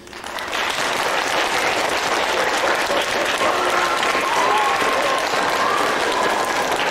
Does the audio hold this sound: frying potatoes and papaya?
no